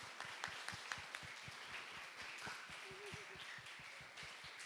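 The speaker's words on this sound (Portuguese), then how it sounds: "Vamos dar uma salva de palmas para a Day" Faint, distant applause at a children's church service, with a steady scatter of claps and a brief tonal voice or note in the middle.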